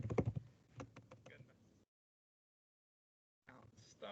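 Computer keyboard keys clack in a quick burst of close taps while an SQL query is typed, then stop for a moment of silence before more faint clicking resumes.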